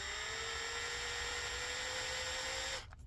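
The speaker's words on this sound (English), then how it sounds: "I'm gonna drill a hole in there" A high-pitched electric drill whines steadily for about three seconds while drilling a hole in a Lenovo IdeaPad 5 laptop case, then stops abruptly, leaving a faint rattle.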